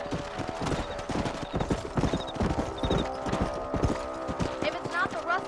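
In Red Dead Redemption, hooves clip-clop in a steady galloping rhythm, with a horse whinnying briefly and faint chiming tones over the hoofbeats.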